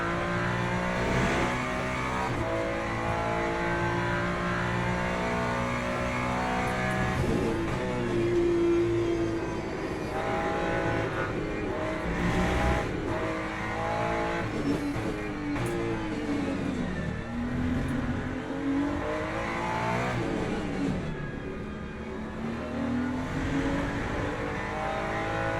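Le Mans Ultimate race car engine during an online LMGT3 race at Interlagos, loud and continuous with rising and falling revs as gears shift through corners, sustained for the whole stretch with no talking.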